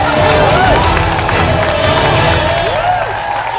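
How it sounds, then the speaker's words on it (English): On a cooking competition set, an audience claps and cheers loudly for the winning red team, a continuous dense roar of clapping with whoops and crowd babble throughout. "Ladies and gentlemen, give them a big round of applause."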